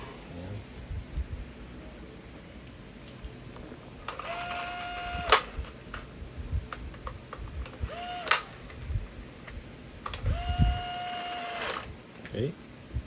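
An upgraded gel blaster loaded with gel ammo fires in three separate bursts, each a sharp buzzing mechanical whir with a rising motor whine, set against quiet room noise and soft background talk.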